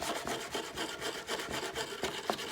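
A wire brush scrubbing aluminum ahead of welding, rasping in quick, even back-and-forth strokes, close and fairly soft, with no voices.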